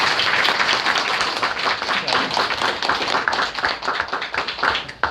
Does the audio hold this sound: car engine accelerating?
no